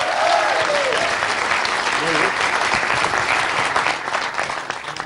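Indian cricket supporters gathered in Sydney before a semi-final applaud continuously, a loud sustained clatter of many hands, with a voice calling out briefly over the crowd.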